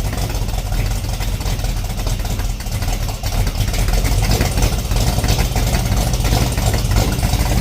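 A restored Ford Falcon XB GS Hardtop idles close by with a loud, lumpy, chunky rumble that runs steadily and unbroken throughout, with no talk over it.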